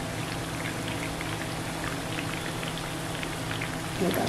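Bread pakoras fry steadily in hot oil, a dense crackling bubble like light rain that stays close and uniform, with a small rise in bubbling just before the end. Nobody speaks.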